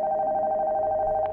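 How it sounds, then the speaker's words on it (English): A telephone rings steadily upstairs in the abandoned house of the Nocturnal Visit game, a sustained electronic ring heard alone at moderate level. "Oh, the phone from upstairs."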